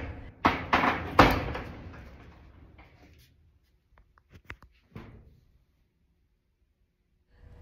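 A storage unit door pulled open with the lock still on, giving a loud rattling metallic scrape and clatter at the start that fades, followed by a few faint knocks and a soft thud.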